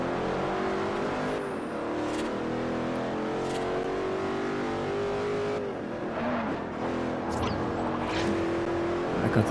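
Engine of a car in Forza Horizon on Xbox 360 revs steadily with shifting pitch through a race, loud and continuous with no talk.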